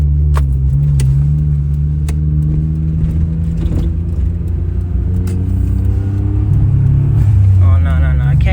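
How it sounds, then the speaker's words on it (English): Engine of a Suzuki Alto Works CR22S running steadily on the road, a loud, constant drone heard from inside the car, with a person talking over it. "Okay, right now the car sounds normal."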